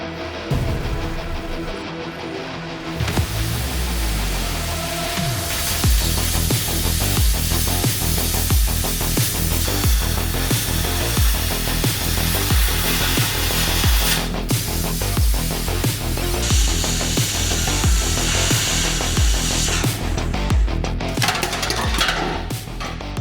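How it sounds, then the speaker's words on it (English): Cutting the body mounts off a Jeep JK donor frame makes a loud, sustained, harsh grinding and rasping of metal that runs almost without pause, with a few brief breaks in the cut. "I need to cut all of the mounts off that are on the frame right now from the Jeep JK"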